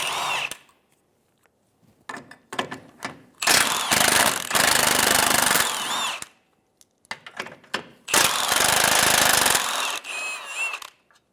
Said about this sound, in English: Using a 17mm socket, we'll remove the nuts.